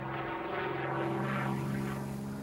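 A P-51 Mustang propeller fighter plane's piston engine drones steadily with a deep, throbbing hum, loud and unbroken throughout, with no voices over it.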